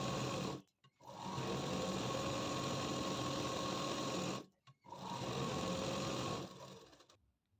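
A sewing machine stitching lining onto elbow sleeves, running in two long continuous bursts with a steady buzzing whir, separated by brief stops, close and even in level.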